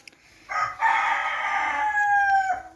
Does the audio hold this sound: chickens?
yes